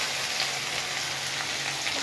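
Chopped big onion sizzles steadily in hot oil for prawn thokku, a soft continuous frying hiss close by with no talk.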